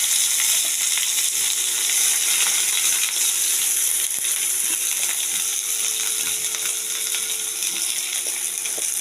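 Grated onions fry in hot oil with a bay leaf, producing a loud, continuous, close-up sizzle with faint clinks and spatters running through it.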